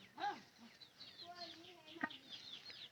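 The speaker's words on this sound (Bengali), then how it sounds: "এই বাচ্চা কবুতর যারা ভাড়া হবো এর ডাকতেছে" Baby pigeons call in a loft, a string of faint squeaky chirps and short cries repeating irregularly at close range, fairly quiet overall.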